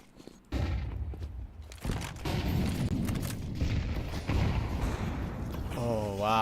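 A Counter-Strike match on the Nuke map with a grenade burst amid a flurry of heavy gunfire and booming blasts. Loud, sustained, with a voice rising briefly near the end.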